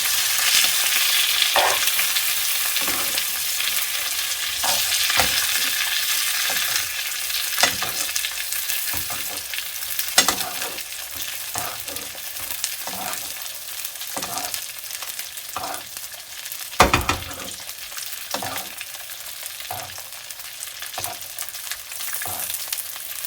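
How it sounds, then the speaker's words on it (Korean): Steak frying in a pan over low heat while melted butter is spooned over it again and again, a steady broadband sizzle with repeated soft scraping and spoon clicks, close and continuous with no talk. "한쪽으로 밀어서 버터를 숟가락으로 계속 고기에 끼얹어 줄 거예요."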